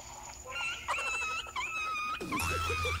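A human voice imitates a whining dog with high, drawn-out wavering whimpers and moans that rise and fall, close and fairly loud, breaking into short pitched cries toward the end.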